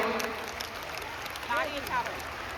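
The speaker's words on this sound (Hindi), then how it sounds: "सभी के लिए जोरदार ताली बजाकर स्वागत करें" Devotees gathered in the afternoon heat for a religious recitation in Delhi clap in welcome, a soft, steady patter of applause at moderate distance with faint voices mixed in.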